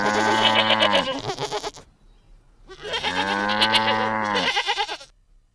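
A goat gives two long, loud, wavering bleats separated by a brief pause, each lasting around two seconds.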